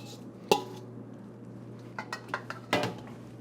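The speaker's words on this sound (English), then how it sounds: "What we're going to do is we are going to just put it on a pan," Leftover pesto ravioli being placed on a metal pan and spread out: one sharp clatter, then a series of light taps and scrapes building to a second clatter, close and fairly quiet.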